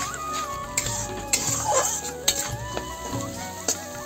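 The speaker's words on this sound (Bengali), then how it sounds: "ওই টমেটোটা একটু ভালো করে কষাই নেবো" Tomato frying in a pan while being stirred, a soft continuous sizzle under light scraping and clinking of the utensil against the pan, close up with a few sharper taps.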